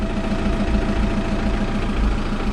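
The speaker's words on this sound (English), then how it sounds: "the engine seems to run okay." A Skoda Octavia vRS car engine idling steadily nearby, a low rhythmic rumble with a slight pulsing throb.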